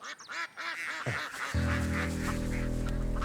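Several ducks quack and honk in quick repeated calls close by, followed by a loud sustained tonal drone that swells and masks the birds, in a dubbed feature film scene.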